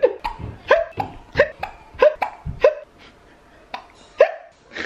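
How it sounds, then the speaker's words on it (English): A three-year-old boy hiccups repeatedly at close range, sharp little gulping catches coming about every half second and then more sparsely, with no talk over them. "You got hiccups?"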